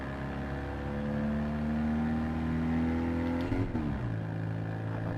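A Fiat 500F in Gran Turismo 7 accelerates in a one-make race on a mountain course. Its small engine revs in one steady, rising drone, then drops sharply as it shifts gear and climbs again, close and fairly loud.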